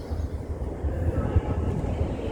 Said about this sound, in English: LNER Azuma 801-210 pulls into Doncaster now.